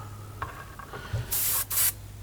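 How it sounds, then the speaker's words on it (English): Two short bursts of spray paint hiss from a nearby can onto an N scale model picnic table, the second following right after the first, over a low steady hum with faint clicks. "I'm just going to give a couple quick shots of some color."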